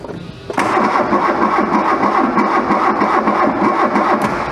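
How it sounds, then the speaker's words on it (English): A barn-find VW Scirocco engine cranks and catches at once with a jump in level, then runs steadily on throttle with a rough, pulsing idle, close and loud throughout. "Still wants a Scotia throttle to start."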